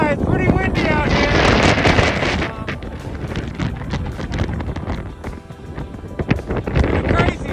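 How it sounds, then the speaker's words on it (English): Strong wind buffeting outdoors on a mountain, roaring gusts across the microphone with people talking and rustling movement underneath. "it's pretty windy out here"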